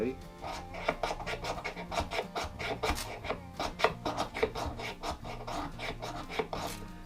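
Knife blade scraping shavings off birch bark for tinder, close up; a quick run of dry, rasping scrapes in an uneven rhythm, moderately loud, with no talk.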